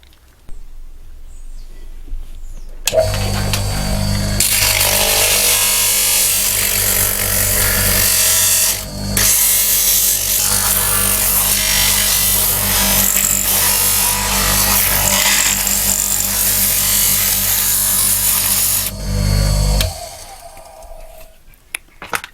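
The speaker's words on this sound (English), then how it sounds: "I'm using this old grinder. I'm going to clean up the edges and put a little radius on it." An old angle grinder works the cut edges of a Magnum champagne bottle, rounding them with a steady loud whine that starts abruptly, holds for about sixteen seconds with a brief dip midway, then winds down.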